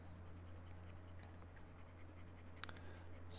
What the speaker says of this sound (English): Let's erase our guidelines.